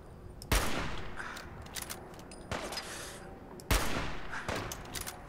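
Gunfire in the video game Fallout 4, three loud, close shots spaced about a second and a half apart, each with a long rolling echo, separated by softer clicks and scattered game sounds.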